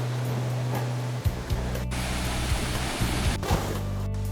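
A waterfall in a deep canyon roars as a steady, broad rush of falling water, even and continuous, with a few faint low thumps near the microphone.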